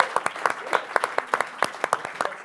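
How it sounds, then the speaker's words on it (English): Sparse applause from a small audience at a live podcast-style talk event, a handful of distinct, fairly close claps at an uneven rhythm, with some crowd voices mixed in. "Round of applause for my beautiful wife"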